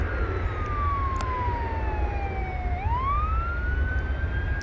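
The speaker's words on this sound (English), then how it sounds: "I don't know if that's where the siren is coming from or not." An airport operations truck's wailing siren at DFW Airport slowly sweeps down in pitch, then rises again, heard from a distance over a low, steady engine rumble.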